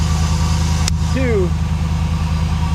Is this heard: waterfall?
no